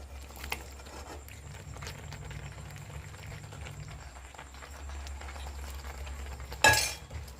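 Cooked pasta tipped into a pan of melted cheese-slice white sauce, a quiet kitchen with faint soft patter, ending in a sharp close metallic clink and scrape of utensil against the pan.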